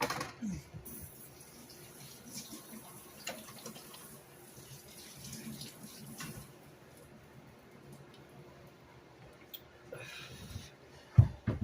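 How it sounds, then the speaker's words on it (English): Water runs from a kitchen faucet into the sink as hands are washed, a quiet, uneven splashing and trickling that stops briefly, followed by a short clatter near the end. "I'll wash my hands real quick"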